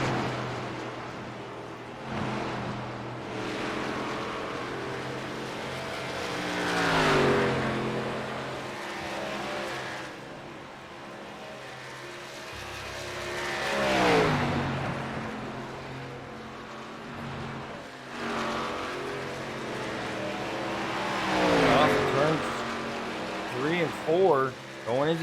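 Race cars circle an oval track at Texas during a championship race, engines swelling and fading as they pass, the roar rising and falling under steady commentator talk.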